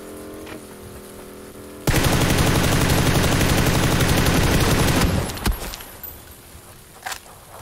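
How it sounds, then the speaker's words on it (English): Loud, sustained automatic gunfire in a BRDM armored vehicle battle video game, a dense burst running about three seconds before cutting off, with scattered faint shots and clatter afterward. "Who else is shooting at me?"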